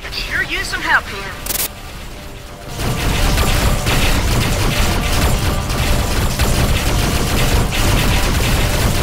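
Scatter turret fire in the space combat game Rebel Galaxy: after a short quieter stretch, a loud, dense barrage of rapid shots and crackling bursts fills the rest of the clip continuously, with a synthetic voice speaking early on.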